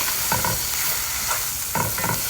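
Paprika-seasoned food sizzles in a pan while a utensil stirs it in a few brisk scraping strokes over a constant frying hiss.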